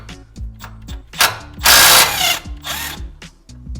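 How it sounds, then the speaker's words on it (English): An impact wrench spins off a 14 mm bolt on a Pontiac G8 during a coilover install, loud and close: a rattling hammering burst that rises then winds down over a few seconds. "I'm going to try just zapping this off real quick with my impact"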